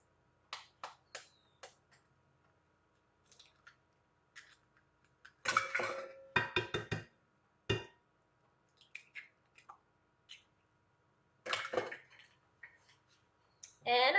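Eggs and other meatloaf ingredients, including pork sausage, go into a mixing bowl with scattered close clinks, taps and soft wet squishes, plus a few louder clattering bursts in an otherwise quiet kitchen.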